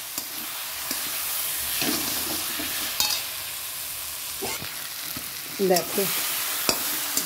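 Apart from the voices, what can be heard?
stirring and sautéing mutton in pan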